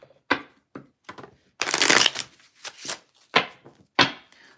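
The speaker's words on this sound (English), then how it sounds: "Do one more shuffle." Tarot cards are shuffled by hand, a run of sharp separate slaps and flicks broken by a longer riffling burst, loud and close in a quiet room.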